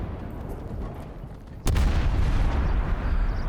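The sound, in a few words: artillery counter-battery fire in a video game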